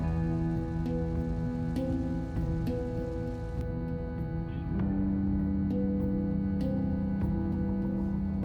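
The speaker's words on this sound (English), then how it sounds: "after that fun little downpour" A heavy rain downpour pattering steadily on the surfaces of an outdoor decking build site, a continuous close wash of drops with a few brief louder hits.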